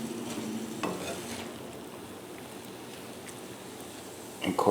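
A broccoli and cauliflower scramble with cheese flipped in a pan: quiet, steady sizzling with a light scrape or two, then a louder clatter of the spatula at the end.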